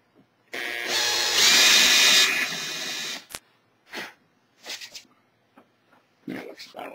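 A Dremel rotary tool fitted with a pointed bit grinds in one loud, steady burst of about three seconds, shaping parts for a Starship cowl mounting, followed by faint scattered handling noises.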